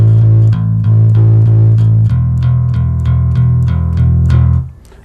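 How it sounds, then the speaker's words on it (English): Metal bass guitar picking steady, even eighth notes with alternating up and down strokes, each pluck sharply attacked on sustained low tones that shift pitch midway, played alone and close before the final note cuts off. "practice slowly and diligently with your drum machine or your metronome, and it should sound like this"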